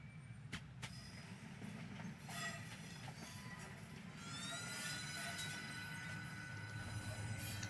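A Nova 1 passenger train runs between Newcastle and Alnmouth in Train Simulator at night, with a steady low rumble of wheels on rail, a few sharp clicks and rising squeals, and faint background noise.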